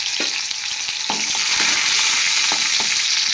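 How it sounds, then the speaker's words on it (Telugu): Tempering spices crackle and sizzle in hot oil, a steady bright frying hiss throughout with scattered pops and occasional scrapes of a stirring spoon against the pan. "నూనె కాగిన తర్వాత మనం తాలింపు రెడీ చేసుకుని వేసేసుకోవాలా"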